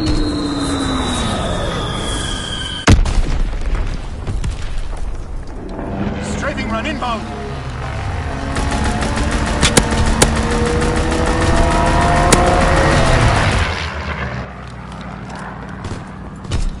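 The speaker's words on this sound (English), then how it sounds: "Aircraft ready for 6X bombing mission ready." Aircraft on a bombing mission in a video game, with a droning engine passing overhead, sharp explosive impacts and rumbling blasts, and voices speaking over the din.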